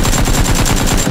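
Rapid automatic gunfire in the battle royale game PUBG, a dense, steady burst of loud shots repeating evenly for about a second with no talk over it.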